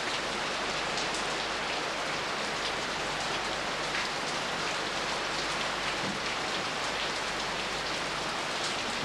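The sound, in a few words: monsoon rain pouring down at Angkor, Cambodia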